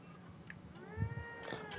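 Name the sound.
cat meowing, Mass Effect Andromeda video game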